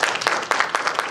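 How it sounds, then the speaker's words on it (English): Audience applause at an Auditor General of South Africa local government audit outcomes event, a brief patch of moderate, fairly distant clapping from a crowd. "I think you also deserve a big round of applause for that"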